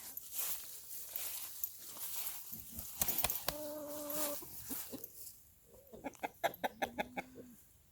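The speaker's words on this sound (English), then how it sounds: "The laying hens are doing fine." Hens cluck and murmur in a coop, with a run of short rhythmic clucks near the end and insect buzzing in the background.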